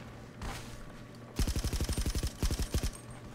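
Rapid bursts of automatic gunfire in a battle royale island shooter game, two clusters of loud, evenly spaced shots separated by a brief pause, with low background hum and no talk over the shots.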